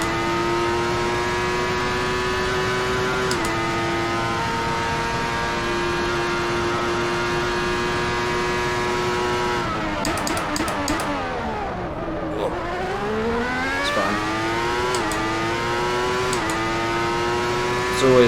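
A 1994 Formula 1 car engine screams at high revs in the Assetto Corsa racing game, close and loud, holding steady before dropping sharply through downshifts around a corner and climbing again on acceleration.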